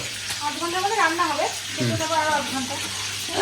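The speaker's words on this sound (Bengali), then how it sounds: "তো এদিকে আর এদিকে ফ্রাই হচ্ছে" Food fries in a pan in a home kitchen, a steady sizzle running under a voice as she talks throughout.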